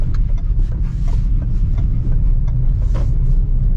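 Steady low rumble of car tyres rolling over an uneven tiled road surface, heard from inside a 2025 Maruti Suzuki Swift, continuous and fairly loud with faint scattered clicks above it.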